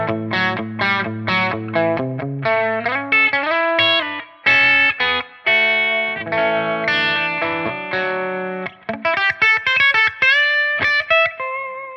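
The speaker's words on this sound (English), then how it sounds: "Moving on to push 1 is where we start to push this into more of a gritty edge of breakup tone." Electric guitar through a gritty, edge-of-breakup Friedman-style amp tone, alternating punchy strummed chords and quick single-note runs, played loud and close with no talking.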